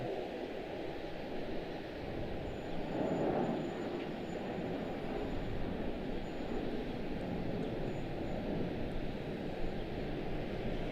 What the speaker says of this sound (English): A couple of arrivals just floated in on us.